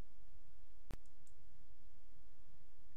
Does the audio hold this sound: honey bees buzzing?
no